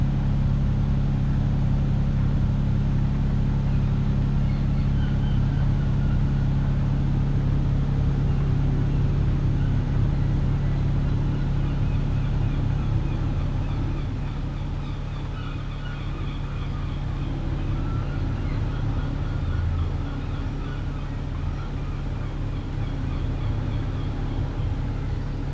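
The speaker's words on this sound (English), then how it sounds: "Engine sounded good." A truck engine in Euro Truck Simulator 2 drones steadily at a constant low pitch, loud and continuous, easing slightly lower partway through, with no talking.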